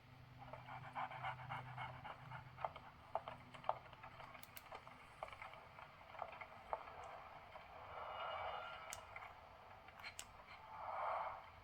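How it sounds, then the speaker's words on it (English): A dog pants quietly in Sherlock Holmes: The Awakened, a soft, rhythmic huffing that continues through the whole scene, with faint clicks and small ambient noises around it and no voices. "So, answers a dog now."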